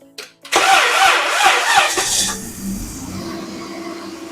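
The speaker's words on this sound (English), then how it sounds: "let me go ahead and crank this engine and start it up and check for oil leaks" A Chrysler Town and Country minivan engine cranks briefly, then catches and roars up before settling into a steady idle, close by.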